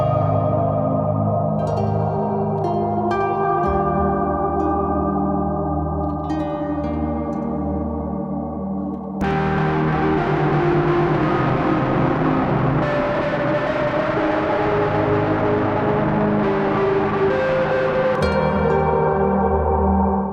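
A harp is played through a Collision Devices Black Hole Symmetry distortion pedal. Loud, sustained, heavily saturated plucked notes ring into a dense harmonic wash, and the chord changes midway.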